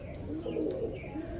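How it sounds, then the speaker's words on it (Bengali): Pigeons at a sale centre giving a brief, faint rolling coo, low and muffled, with light chirps and room hiss around it. "11 পিস কবুতর 500 টাকা পিস"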